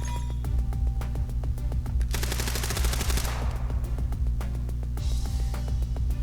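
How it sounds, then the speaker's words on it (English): Machine gun fire in the video game Secret Game: Killer Queen: rapid bursts of automatic gunfire repeating in quick volleys, loud and close, with a long sustained burst in the middle and no talk over it. "they heard the sound of machine gun fire from far away"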